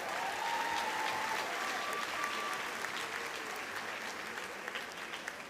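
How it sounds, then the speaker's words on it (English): Sustained applause from an audience at a high school graduation ceremony, steady and full for several seconds before tapering slightly. "Give him another big round of applause."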